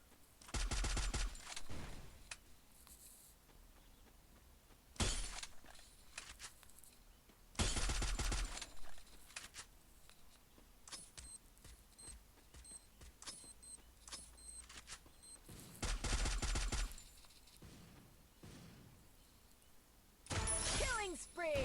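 Bursts of video game gunfire from a mobile battle royale come in short, sharp clusters separated by quieter gaps, several volleys spread through the stretch, with game sounds in between and no voice over them.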